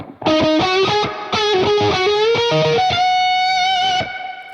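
A distorted electric guitar played through a stereo rig with reverb plays a short phrase of chords and notes, ending on a sustained ringing chord that trails off into a reverberant tail.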